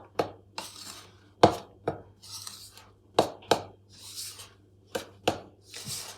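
Polenta cake batter with orange juice being mixed in a bowl, a series of intermittent scraping knocks of a utensil against the bowl, close and fairly quiet, no speech.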